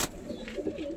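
A male pigeon gives a brief run of low, throaty coos close by, a few soft pulses after a short click at the start.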